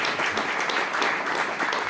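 An audience at a hymn-singing programme breaks into steady applause, many hands clapping together in a dense, even patter that fills the moment with no voices above it.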